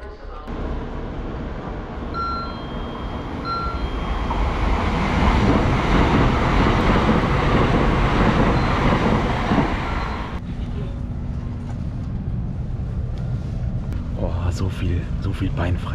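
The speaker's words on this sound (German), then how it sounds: "Boah, das ist so krass, wie schnell dieser Zug ist, ne?" Japanese Shinkansen bullet train running at about 300 km/h, a steady loud interior rumble and rushing roar that swells, then eases into a quieter hum, with someone speaking over it.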